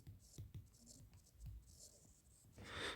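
Pen or pencil writing by hand during a 9th-grade Azerbaijani language lesson, a few scratchy strokes and taps close by, with faint background noise and a louder rustle near the end.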